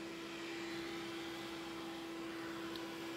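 A handheld electric fan with a built-in water mister runs close by, a steady whirring hum with a constant motor whine and broadband airflow hiss, no talking over it.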